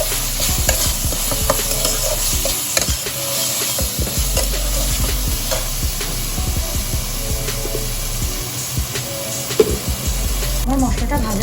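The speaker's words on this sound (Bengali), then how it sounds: "এর মধ্যে দিয়ে দেবো আদা বাটা, রসুন বাটা দিয়ে ভালো করে মশলাটাকে ভেজে নেব" Ginger paste, garlic paste and spice masala fry in a pan for a Bengali white chicken curry, with a continuous loud sizzle and steady scraping strokes of a spatula stirring throughout.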